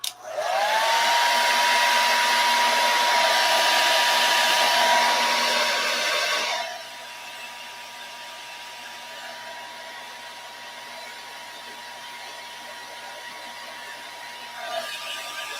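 A hair dryer blasts loudly and steadily for several seconds, then drops to a quieter, lower setting and keeps whirring on with a faint tonal whine.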